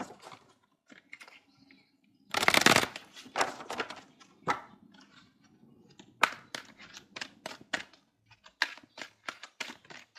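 Wisdom of the Oracle cards being handled and shuffled close by, with a quick run of light, crisp card flicks and taps in irregular bursts, one louder riffle near the start.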